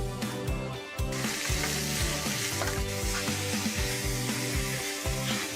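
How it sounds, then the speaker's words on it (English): Calamari sizzles loudly and steadily in a very hot paella pan, with a dense, continuous frying hiss and occasional stirring scrapes. "I am going to cook my calamari."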